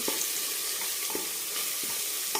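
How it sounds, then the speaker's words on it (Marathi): Turmeric sautés in hot oil for a mutton curry, a dense steady sizzle broken by several soft spatula scrapes at irregular intervals. "हळद पण परतून घ्यायची"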